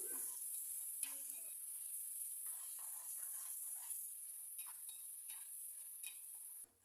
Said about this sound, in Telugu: ఇలాగా నేను చూపిస్తున్న విధంగా కింద అడుగు అంటకుండా అంటే మాడిపోకుండా బాగా కలుపుకోవాలి